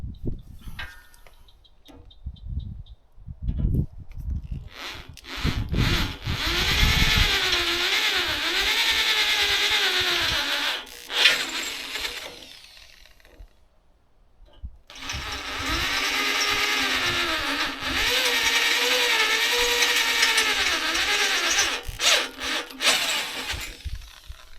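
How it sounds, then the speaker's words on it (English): Power drill boring holes into steel parts for a driveway gate, two long grinding, whining runs separated by a pause with a few short bursts before, loud and close with no speech. "Let me get some holes drilled."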